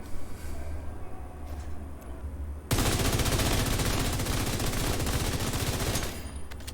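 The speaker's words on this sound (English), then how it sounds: "Full sustained fire. Only reloading when I absolutely have to." Sustained automatic rifle fire from a FAMAS in Division 2, opening after a few seconds of quieter battlefield ambience, then a dense, loud, rapid string of shots that continues steadily with no talk.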